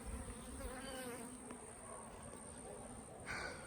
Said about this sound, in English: there's a lot of bees in this box working hard